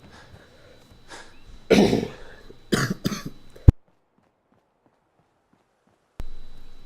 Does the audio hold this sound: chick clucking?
no